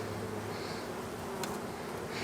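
Honey bees buzz around a hive frame during a honey harvest, a soft continuous hum of many bees close by, with a faint brief click partway through and no voices.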